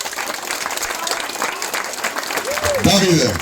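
Applause from a crowd at a village stage event in Jegunovce, North Macedonia: a short burst of clapping rises under an announcer's voice on a microphone.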